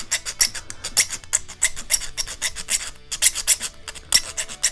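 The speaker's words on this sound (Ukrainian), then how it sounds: "Пиляєм, пиляєм." Needle file rasping through thin 0.6 mm stainless steel sheet, a steady run of quick scraping strokes, close and fairly loud with short pauses between bursts, no talking.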